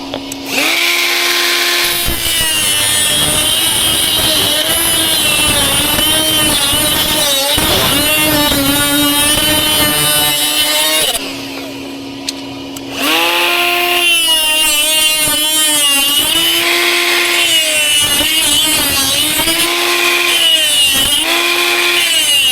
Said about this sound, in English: Take the die grinder.